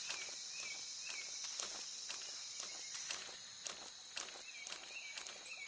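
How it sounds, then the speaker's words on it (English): Footsteps in Metal Gear Solid 3: Snake Eater, a steady run of crisp, close steps over a constant hissing, insect-like ambience, no voices. "I hear footsteps."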